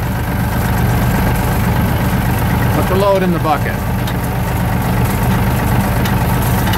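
A tractor engine idles with a steady low rumble during forest road repair, continuous and fairly close while someone talks over it.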